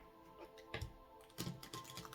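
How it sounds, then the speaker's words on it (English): Cards riffle and tap in a few quick, close bursts, soft crisp flutters separated by short pauses. "We're going to shuffle one last time,"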